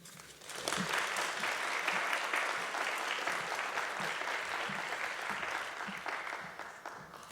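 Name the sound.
audience applause for faculty speakers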